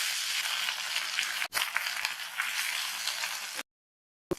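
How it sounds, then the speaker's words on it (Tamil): A handful of drumstick leaves sizzles in hot oil with green chillies and garlic. The hiss is steady and close for about three and a half seconds, with a brief break and a few stirring clatters, then it cuts to silence. "கீரையை 1/2 நிமிஷத்துக்கு எண்ணெயிலேயே வதக்கி விட்டுக்கங்க."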